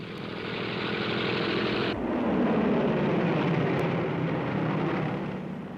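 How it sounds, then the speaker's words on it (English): A heavy, steady drone of American WWII propeller warplanes roars continuously overhead in the Pacific, loud and unbroken, with a slight shift in tone partway through. "Japanese sound detectors pick up the American planes."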